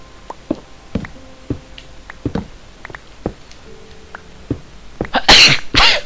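Two loud, close sneezes burst out back to back near the end, following a stretch of scattered clicks and taps in a Minecraft gaming session.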